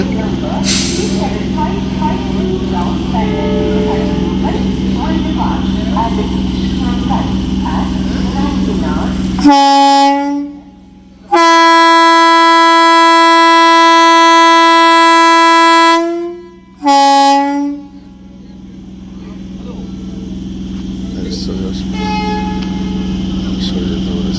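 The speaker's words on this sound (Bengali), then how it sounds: "এইবারে ট্রেন ছাড়বে, দরজা বন্ধ হয়ে গেছে।" The Howrah–Kamakhya Vande Bharat Sleeper Express departs Bandel Junction, first with platform rumble and air hiss, then one short and one long, loud sustained horn blast and a brief final toot before the noise settles into rolling movement.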